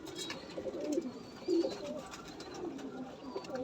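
A large, long-bodied high-flying pigeon gives two or three soft, low coos close by, with faint chirps and rustling in a quiet room.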